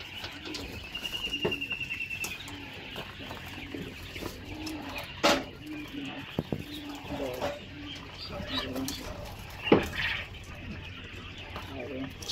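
Female quail at a poultry farm call in soft, repeated cooing and clucking notes throughout, some near and some farther off, while people talk nearby.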